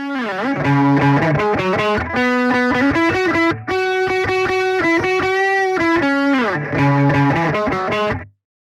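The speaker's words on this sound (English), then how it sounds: "switch over to the bass cab and you'll hear how dark it is" Distorted electric guitar riff through the Klevgrand Stark CM amp simulator with a bass cabinet, a dark, muffled tone, notes bending and sustaining, then cutting off abruptly into silence.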